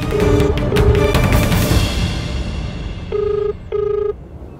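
A phone rings repeatedly in short electronic tone bursts, two pairs a few seconds apart, over a muffled background; nobody answers.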